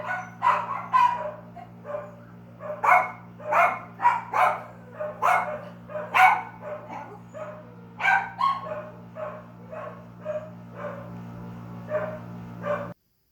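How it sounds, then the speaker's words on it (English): Dogs barking indoors over a steady low hum, with repeated close barks and yips in an irregular series that carry on for many seconds before ending abruptly. "Hopefully we got dogs settled down."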